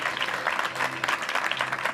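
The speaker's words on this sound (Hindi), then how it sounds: "जोरदार तालियां बजाएं उससे" Church congregation applauding during a Hindi-language sermon, a short burst of scattered clapping with individual hand claps audible.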